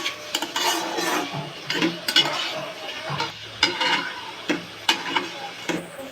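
A spoon works salt through mashed tomato in a bowl: repeated scraping and clinking strokes in an uneven rhythm, close and fairly loud, with no voice over them.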